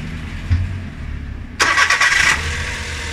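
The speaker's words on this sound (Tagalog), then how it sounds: "Papandarin na natin yung sakyan." A car engine starts: a short crank catches and fires into a loud rough idle after a quiet stretch. The car has a coolant fault, with coolant overflowing and bubbling in the radiator.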